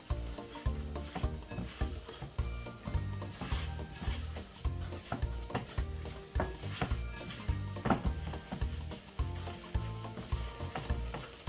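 Sponge cake batter being stirred with a wooden spoon, a steady rhythm of soft scraping and knocking strokes against the bowl, close and continuous, with no voices.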